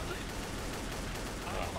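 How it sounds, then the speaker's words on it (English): Gunfire in the game Trouble in Terrorist Town is a dense, continuous burst of rapid shots, faint and compressed, heard alone for under two seconds. "This guy's faking gunfire."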